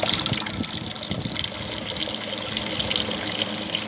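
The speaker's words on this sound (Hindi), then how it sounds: "पानी को भर लेना आपने बर्तन को।" Tap water pours steadily into a pot for a gas-pipe leak test, a continuous loud gushing splash close by with no pauses and no voices.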